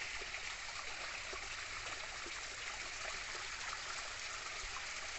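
A forest stream flows in a steady, even rush of water that holds at a constant level throughout, with no voices or other sounds over it.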